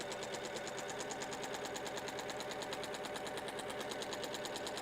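A sewing machine runs steadily, stitching along a line through a quilt bundle held by a Weightless QuilterClip, its fast even needle rhythm continuous and close for the whole stretch.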